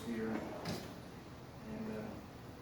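A workshop drawer slides open or shut with a short scrape and knock, while someone talks quietly before and after the sound.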